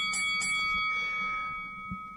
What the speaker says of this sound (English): But Maddie, it's time to do a little buzzer and bell.